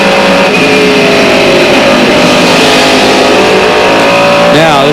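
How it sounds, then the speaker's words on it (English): Onboard a Mercedes CLR race car braking hard into the Ford chicane, a loud, close engine drone shifts in pitch and wavers near the end as the car slows. "this is some incredibly hard braking into this section"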